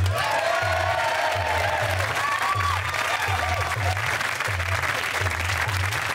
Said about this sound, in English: A big round of applause for Les.